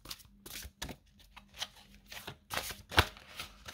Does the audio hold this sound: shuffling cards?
yes